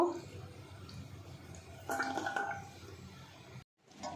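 Cut bottle gourd leaves are lifted out of a bowl of soaking water, giving a short burst of sloshing and dripping close by under a soft steady background.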